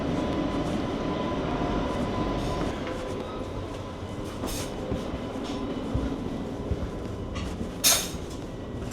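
Interior of an ÖBB train carriage on the Zurich to Vienna route, a steady broadband rumble of the moving train with faint rail clatter and a brief louder knock near the end, no talk.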